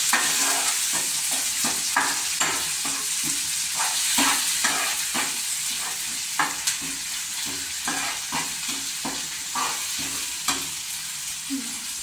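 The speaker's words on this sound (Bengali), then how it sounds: "ভালো করে কষিয়ে কষিয়ে নিতে হবে।" Spice paste fries in a pan with a steady close sizzle, while a spoon scrapes and stirs through it in repeated sharp strokes.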